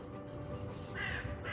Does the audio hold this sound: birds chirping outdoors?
yes